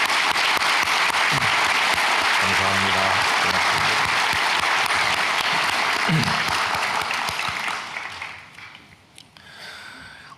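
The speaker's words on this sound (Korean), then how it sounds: "뜨거운 박수로 맞이해 주시기 바랍니다" A church congregation gives warm applause welcoming visiting pastors during a Sunday worship service, dense loud clapping that runs for several seconds and then tapers off, while a voice briefly offers thanks.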